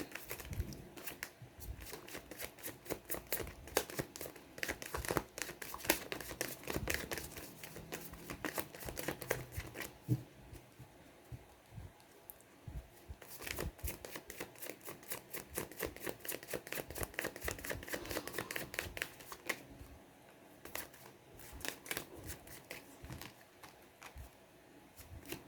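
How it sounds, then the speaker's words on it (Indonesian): Tarot cards shuffled by hand close up, a dense, continuous run of quick papery riffles and taps that keeps going without pause, with no talking. "Oke, saya kocok kartu ya."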